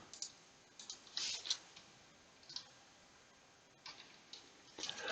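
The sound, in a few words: typing on a computer keyboard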